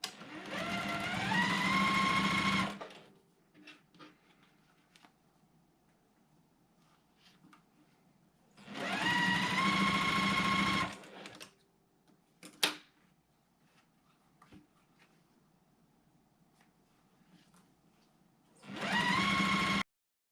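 Sewing machine piecing teal and white quilt squares, running in three loud bursts of steady stitching separated by quiet pauses with faint handling clicks.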